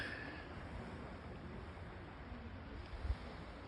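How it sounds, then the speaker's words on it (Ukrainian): Faint, steady wash of distant Mediterranean sea surf on the Italian coast mixed with wind noise, a soft continuous roar with no distinct breaks. "Море."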